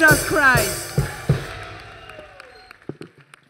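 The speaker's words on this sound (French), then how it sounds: "Acclamation à Jésus-Christ." A church congregation cheers and applauds in acclamation of Jesus Christ, a loud burst of clapping and voices at the start that fades over a few seconds into scattered claps and sounds.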